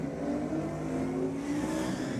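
A supercharged ute accelerates toward the drag race finish line at a Sydney burnouts night, a steady distant engine roar with faint rising tone over a noisy track backdrop.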